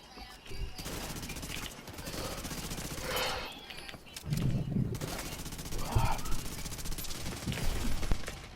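Rapid automatic gunfire from a Division 2 PvP match fills the scene in dense bursts, with players talking over the shooting throughout.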